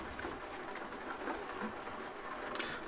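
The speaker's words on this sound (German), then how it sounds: "Und es regnet." Steady rain falling in the Euro Truck Simulator 2 driving game, a dense even hiss with faint low rumble throughout, no voices.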